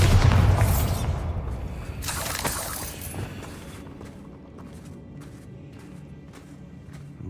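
A Bombarda spell explodes in the Hogwarts Legacy video game, a loud burst with a shattering crash at the start, then a second blast and a fading rumble with scattered clatter trailing off.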